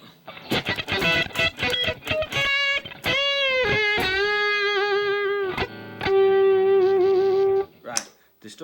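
Sustained, buzzy electric guitar with heavy distortion, played on a Stratocaster-style guitar, a few quick picked notes followed by long ringing held chords, loud and close.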